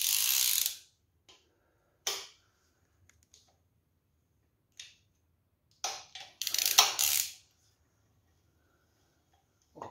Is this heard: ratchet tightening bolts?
yes